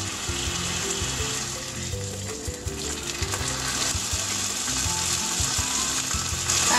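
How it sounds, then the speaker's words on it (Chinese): Chicken sizzles in a pan over low heat while being cooked for a teriyaki chicken burger, a steady, fairly loud frying crackle that continues throughout, joined by faint clinks and scrapes. "小火煎2分钟。"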